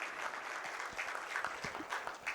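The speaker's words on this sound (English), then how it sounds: "So a huge round of applause to him for having a big vision." Scattered audience applause at an Indian corporate celebration event, steady and moderately faint, with a few louder claps standing out from the wash.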